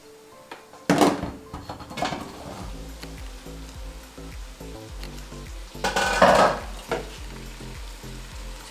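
A spoon stirs softened, mushy tomatoes in a pot for matoke. Close scraping and clattering bursts come under a faint sizzle, along with a couple of dull thunks of the pot, and no one talks.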